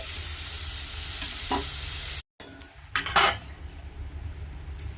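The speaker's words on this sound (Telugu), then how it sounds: "కూరకు సరిపడా కళ్ళుప్పు వేసుకొని బాగా బ్రౌన్ కలర్ వచ్చేదాకా వేయించుకోవాలి" Onions frying with rock salt in a pan until brown for an egg and fish curry, a steady sizzle broken by a brief cut, then a few sharp spoon scrapes and clinks against the pan.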